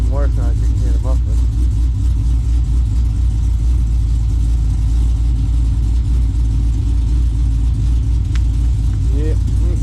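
A Pontiac GTO engine with an exhaust leak idles close and loud, a deep steady rumble with a ticking, puffing edge running through the whole stretch, while people talk briefly over it.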